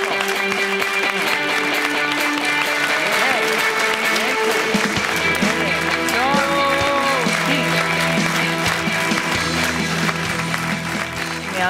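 An audience applauds to welcome the Armenian tennis team, a loud, dense and sustained clapping from a crowd that continues without a break, with voices mixed in.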